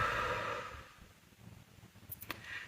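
One long, soft exhale after a held breath during a guided breathing exercise, fading out alone, followed by a few faint clicks.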